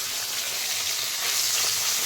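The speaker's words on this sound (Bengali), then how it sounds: "দেখো পাবদা মাছ 2 পিস ভাজা বসিয়েছি।" Two pieces of pabda fish frying in a pan, a steady close sizzle and crackle of hot oil with no talking.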